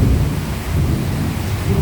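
Heavy rain with thunder pours over a backyard farm in Cagayan in a dense, loud roar with deep rumbling underneath, steady throughout and close.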